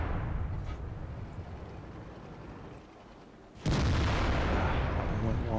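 Artillery fire in World of Tanks, a low rumbling backdrop that fades, then a sudden loud blast kicks in and continues as heavy booming noise; no clear speech.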